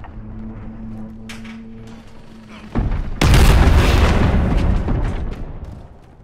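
Cruise missile explosion in Call of Duty Modern Warfare on PC, a loud deep boom with a rumbling tail following quieter game ambience and tones, close and dominant.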